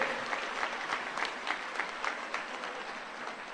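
Clapping from a political rally crowd in Nanded greets guests Chennithala and Nana Patole, a sustained, somewhat distant roar of applause with individual sharp claps popping out over several seconds.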